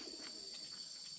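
A pigeon or dove coos softly and faintly outdoors at a family farm, a few muffled low coos over a steady high-pitched background hum.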